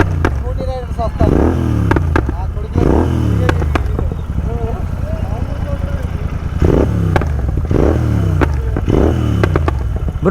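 A Royal Enfield GT650 twin fitted with a Code6 exhaust on a Hyderabad night ride, close and loud, revving up and down in repeated surges, each rev trailed by sharp crackling pops and bangs, with voices talking intermittently underneath.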